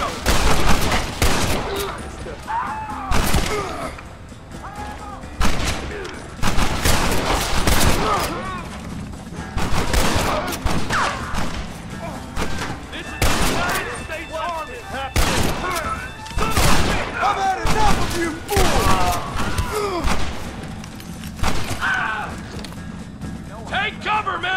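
Gunfire in a Red Dead Redemption shootout: repeated loud bursts of rifle and pistol shots in ragged volleys, with shouting voices heard between and over the shots.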